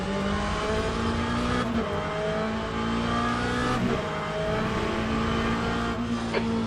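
A faster class race car approaching in a racing simulator at the Portimão circuit, with loud, sustained engine tones that shift pitch with gear changes and blend with another car's engine nearby.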